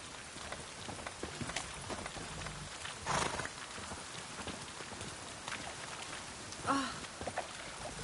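Steady rainfall in the video game The Witcher 3: Wild Hunt patters throughout at moderate level, with a couple of louder brief bursts and faint hoof-like clopping mixed in, no speech.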